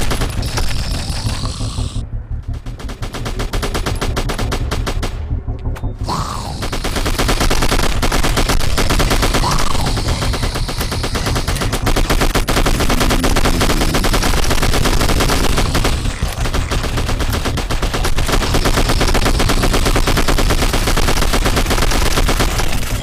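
Rapid bursts of gunfire from a mobile zombie shooter game styled after Left 4 Dead, loud and continuous over game ambience, with brief pauses between volleys.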